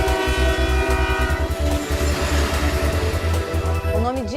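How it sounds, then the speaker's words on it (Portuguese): A train horn sounds over heavy rail rumble: long sustained tonal blasts with a falling pitch bend near the end, loud and close, with low rhythmic clatter of passing wagons underneath. "Só fica o efêmero apito do trem."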